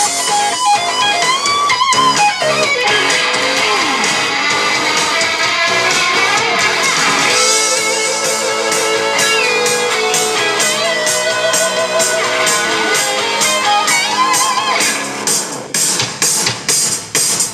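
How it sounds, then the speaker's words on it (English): Two electric guitars trade fast rock licks in rough, lo-fi camera-recorded audio, dense and continuous, ending in a few choppy stabs. "what you just heard was some lo-fi camera audio of Ricky and I trading licks"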